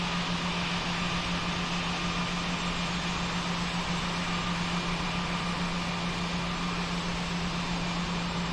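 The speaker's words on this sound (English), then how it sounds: "what you're hearing is my voice and game sounds along with the roaring engines of the Cebu Pacific" Roaring airliner engines from a flight simulator game, heard as a steady broadband jet rush with a constant low hum, loud and unchanging throughout with no talking.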